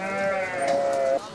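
A sheep bleats loudly nearby in one long, wavering cry lasting over a second, with a little background noise around it.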